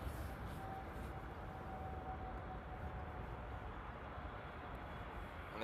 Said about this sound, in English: in the background you can hear some planes as well. That's from Le Bourget.